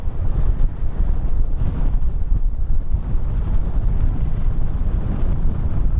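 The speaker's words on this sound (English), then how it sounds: "It is super windy today." Strong wind roars continuously on the seafront at Skegness, buffeting the microphone with a heavy, steady rumble and no other sounds standing out.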